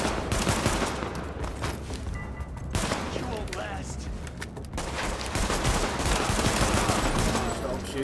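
Sustained gunfire and bursts from the video game The Division, a dense, loud barrage throughout with automatic fire layered over a busy game soundscape.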